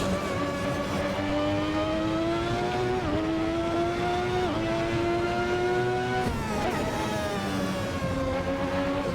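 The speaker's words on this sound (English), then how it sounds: "Braking and downshifting straight to the apex." A Ferrari 643 Formula 1 car in a racing video game brakes and downshifts: a loud, continuous high-revving engine whine that drops in pitch in steps at each downshift, with no talking.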